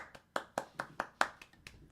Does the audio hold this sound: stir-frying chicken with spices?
no